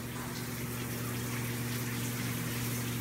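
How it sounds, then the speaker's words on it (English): A shower runs steadily with a continuous hiss of spraying water and a low pump-like hum underneath, constant and unbroken throughout. "Okay, it's a shower."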